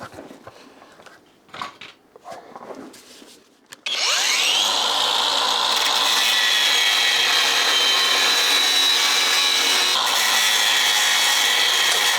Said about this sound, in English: I'm gonna give it a cut right down there with my angle grinder